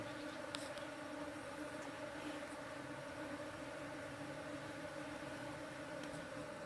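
Honey bees swarming at their nest during a honey harvest, a dense continuous drone of many buzzing insects close and steady throughout, with no talking.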